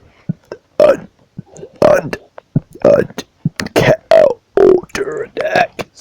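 A run of short, low, gurgling burps comes in quick irregular bursts, about eight in six seconds, loud and close with no other sound behind them.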